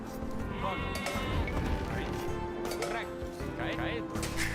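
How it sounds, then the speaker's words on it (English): Sheep bleating in the video game Age of Empires II, several wavering bleats from a few animals over game ambience, with someone talking throughout. "Found more sheep, it sounds like."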